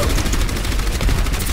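Rapid sustained gunfire from Orisa's weapon in the video game Overwatch, a dense continuous stream of shots without pauses, loud and close throughout.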